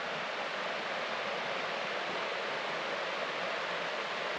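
Steady broadband rush of water flowing below a 1930s CCC camp shelter at night, continuous and even throughout, with no talking.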